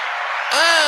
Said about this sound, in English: So it's time for a big round of applause.